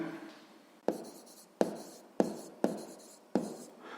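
A pen writes an answer by hand on paper for a sixth-grade math exercise, five crisp scratchy strokes, each a sharp attack fading off, close and quiet.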